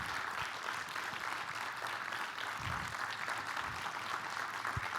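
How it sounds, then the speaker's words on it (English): An audience at a poetry club event applauds, a dense, even wash of clapping from many hands that continues for several seconds without voices. "Let's keep the applause going for Joelle Taylor."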